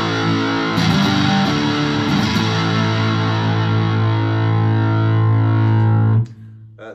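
Squier Classic Vibe 50s Stratocaster played through a Roland JC40 Jazz Chorus amp set to distortion with a touch of reverb, loud sustained overdriven chords ringing out and cut off sharply near the end.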